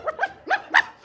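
A woman imitates a dog growl with her voice in a short stand-up comedy routine, giving a few rough, vocalized growling bursts close to the mic.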